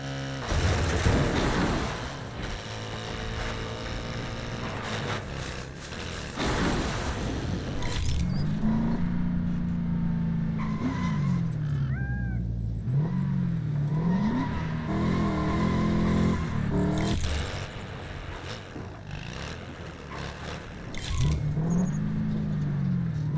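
A car engine in Lego 2K Drive revs and surges through gear changes while driving, loud and continuous with rising and falling pitch sweeps and clattering effects.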